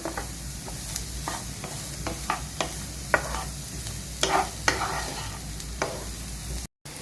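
Sliced onions sauté in a pan for a paneer butter masala, with a soft sizzle under repeated scraping and stirring clacks of a spatula against the pan, close and steady.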